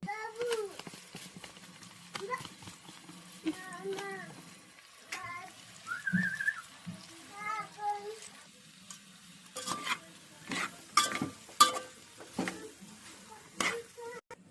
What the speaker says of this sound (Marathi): आता ह्याच्यात ॲड करायचं आहे आपल्याला आणि सगळं मिक्स करून घ्यायचं आहे